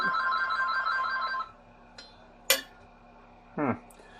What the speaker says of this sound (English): Someone needs to get the phone.